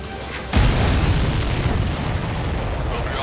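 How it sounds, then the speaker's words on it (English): A missile strikes a supply ship in the Ace Combat 7 flight combat game, setting off a sudden loud, deep boom that rolls on as a sustained rumbling roar. "Missile hit the supply ship dead on."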